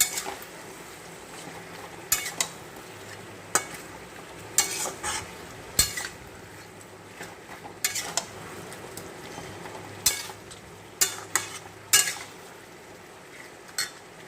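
Potatoes and green chillies sautéing in a pan, with a low steady sizzle and repeated close clinks and scrapes of a utensil stirring against the metal at an irregular pace, no voices.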